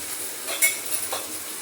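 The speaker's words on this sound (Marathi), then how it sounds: "कांदा परतून घेते थोडासा" Onion sautéing in a pan, a close, continuous sizzle with a couple of sharp scrapes and taps from a utensil stirring against the metal.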